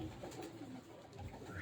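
Pigeons of an old, rare bloodline coo softly and steadily through the whole short stretch, with no talking over them.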